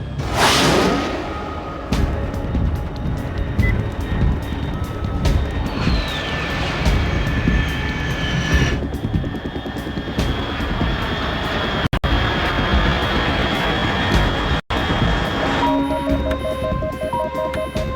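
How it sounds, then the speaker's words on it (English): A jet aircraft roars loudly and steadily overhead in the video game Metal Gear Solid 3, a sustained engine drone with whooshing and tonal whine that persists throughout without speech. "Unidentified aircraft detected."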